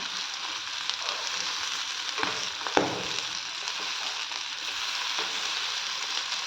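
Egg with masala fries in a pan, giving a steady close sizzle broken by a couple of brief scraping stirs, with no talk.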